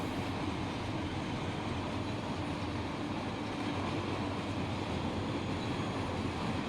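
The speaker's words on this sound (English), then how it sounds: "So we should be able to go after this BNSF 7718 gets through." BNSF 7718 train rolling past in Run 8 Train Simulator, a continuous loud rumble and rail roar holding steady at close range, with no talking.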